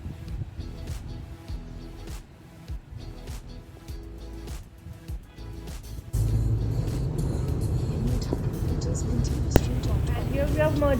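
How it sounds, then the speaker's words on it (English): A blue Nissan Xterra drives on the Abu Dhabi–Al Ain Highway, giving a steady engine and road rumble that rises noticeably louder midway as it merges, with a voice speaking over the drive. "And here we are merging on Abu Dhabi Al Ain Highway."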